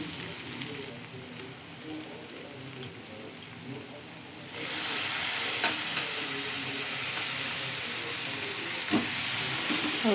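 Washed chicken pieces dropped into a hot pan, a quieter sizzle swelling abruptly into loud, dense hissing and crackling as they fry, with occasional stirring clinks, close up and without talk.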